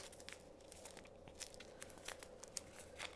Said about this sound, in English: do I have to get scissors to open a yeast packet?